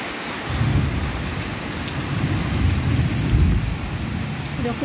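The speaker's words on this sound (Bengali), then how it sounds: "এরকম বড় বড় করে মেঘ ডাকছে বাবা" Heavy rain pours steadily on surfaces while deep thunder rumbles long and low beneath it, swelling and fading across the whole stretch. No talking is heard.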